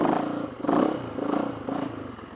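A motorcycle engine revs in uneven surges as the rider works the clutch and throttle during a wheelie attempt, close and fairly loud, with a rough clattering tone and no talk.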